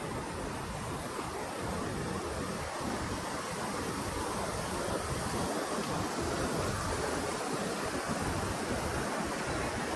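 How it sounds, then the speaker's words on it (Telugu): A waterfall at Frankenmuth roars in a steady, dense rush of falling water, continuous and even throughout with no voices. "సో ఇదంతా వాటర్ ఫాల్ అండ్ అక్కడ ఏమో బ్రిడ్జ్ ఉంది"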